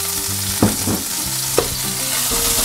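Tuna frying in a little oil in a pan, with a steady close sizzle broken by a couple of sharp scraping stirs, with no voices.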